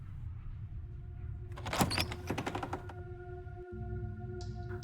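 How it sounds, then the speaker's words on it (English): A basement door creaks open in the game Slay the Princess, a rising mid-clip creak and rumble heard alone over a low ambient drone. "The door to the basement creaks open, revealing a staircase faintly illuminated by an unseen light in the room below"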